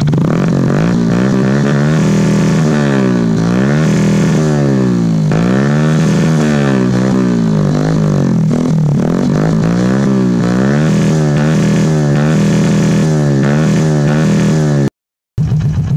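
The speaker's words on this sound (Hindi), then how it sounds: "आइए आपको साउंड सुनाया जाए। चलिए साउंड सुनाते हैं।" A modified Hero Splendor motorcycle with an aftermarket exhaust revs over and over at close range, each throttle blip rising and falling in a loud, steady rhythm that barely pauses for the full stretch.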